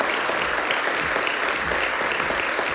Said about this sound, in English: So please, please give a round of applause to these graduates this morning